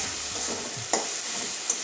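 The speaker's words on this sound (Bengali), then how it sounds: "এই যে টমেটোটা একদম ভাজা হয়ে গেছে" A brief soft sizzle of tomato frying in a pan, with a couple of light scraping stirs.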